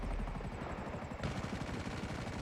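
Machine gun on a Buzzard attack helicopter in GTA V, a steady rapid rattle of fire under a constant engine drone, moderately quiet and unbroken throughout.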